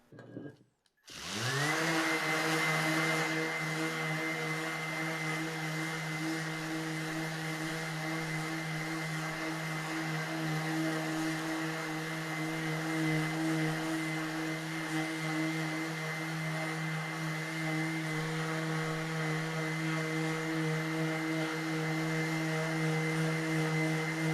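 Power sander fitted with a 180-grit disc cleaning mild steel down to bare metal; a loud, steady whine with strong harmonics runs nearly unbroken after a brief start.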